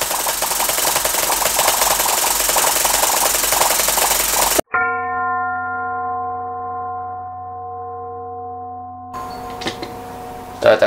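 A massage gun hammering on a phone screen makes a fast, buzzing, engine-like rattle, loud and close, before it cuts off and a steady electronic tone takes over.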